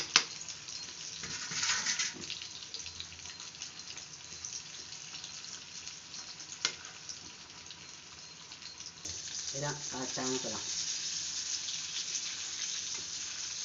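Yam balls (senai kola urundai) fry in hot oil with a soft, steady sizzle, joined by brief clatters of stirring or handling near the end.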